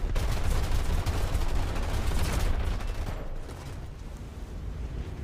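Anti-aircraft guns in a video game hammer out a dense, continuous fusillade of rapid, loud shots that roar on for several seconds before easing slightly, with no talking.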